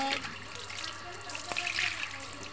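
Raw fish being rinsed under a running kitchen tap, with a steady, faint wash of water splashing into a sink for a couple of seconds.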